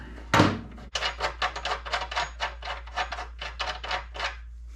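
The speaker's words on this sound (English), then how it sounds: "sanding on this surface with my belt sander" A belt sander working a metal racing minibike frame in a workshop, a sharp knock followed by a run of rhythmic rasping strokes over a low steady hum.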